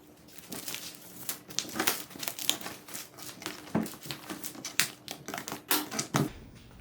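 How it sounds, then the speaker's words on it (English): Plastic packaging crinkling and rustling as it is pulled off flat-pack desk parts, close and busy, in irregular crackling bursts that stop abruptly at the end. "we'll get this out of this plastic and we'll get started"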